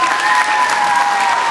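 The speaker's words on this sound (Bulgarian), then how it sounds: "Веднага ни силни аплодисменти за Диана Овчарова" Audience applause for Diana Ovcharova at an evening election campaign event in Ivaylovgrad, a dense, steady clapping that holds loud and close for the whole moment.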